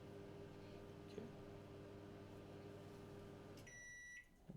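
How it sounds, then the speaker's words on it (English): A microwave oven hums steadily while heating water for tea, a low, even drone running close by, then it stops and several short electronic beeps follow. "So microwave water for some tea."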